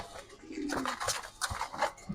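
A restless pigeon coos softly while being held in a pigeon loft, its low calls mixed with faint rustling and handling sounds at close range.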